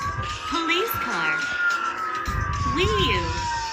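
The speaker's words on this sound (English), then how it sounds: "Police car." A police car siren wails in a slow rising and falling tone, loud and near, with other vocal sounds mixed around it.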